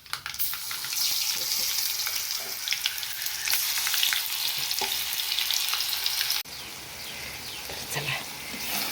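Onion-tomato paste with garlic sizzles and spits in hot oil for a tempering, a steady close frying hiss with small crackles and occasional stirring scrapes, dropping slightly quieter near the end.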